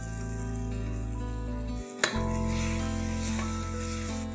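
Red chili powder, turmeric, green chilies and whole black pepper fry in a pressure cooker for chicken biryani, a continuous close sizzle under a low hum, broken once by a brief clatter partway through.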